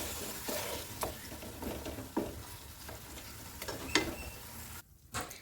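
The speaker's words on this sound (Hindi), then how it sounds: "अब लहसुन और प्याज के साथ जो है ना चिकन को थोड़ी देर के लिए 2 से 3 मिनट इसको भुनाई करनी है इसकी।" Chicken browns in a pan with garlic and onion, giving a steady close sizzle broken by scraping stirs and a few sharp clicks of the spoon, with a short quiet gap near the end.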